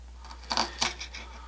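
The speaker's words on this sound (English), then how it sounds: "I have 2 green onions here in front of me. I'm going to go ahead and just cut these up into small little rings." Knife chopping two green onions into small rings on a board, a few quick crisp taps close by, alone without talk.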